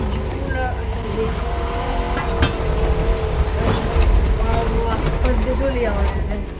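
Car engine and road noise from driving in the racing video game The Crew Motorfest, a steady loud drone with brief surges and skids, with someone talking over it.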